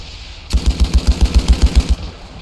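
A single burst of rapid machine gun fire in the video game Ravenfield, a World War I trench battle, about a dozen evenly spaced shots over a second and a half, loud and close.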